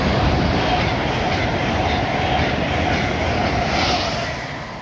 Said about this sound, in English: passing through now is an Avero.